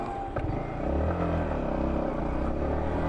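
A Yamaha MT15 motorcycle with about 4968 km on it runs steadily under the rider, its engine note a loud, continuous drone with rising pitch sweeps as it accelerates, close to the microphone.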